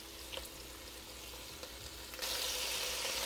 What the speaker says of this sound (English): We're just going to let these sizzle for a few minutes, but I want them to get kind of lightly brown.